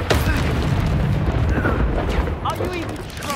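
Explosive spell blasts from Bombarda and Confringo in the Hogwarts Legacy video game, a loud, sustained rumbling boom and crackle with dense layered impacts, fading slightly toward the end.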